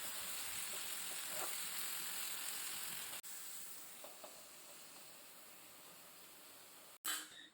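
Mutton curry with coriander powder, red chilli powder and salt sizzling steadily in a karahi as it is stirred, a continuous close hiss with faint scraping touches and a brief clatter near the end.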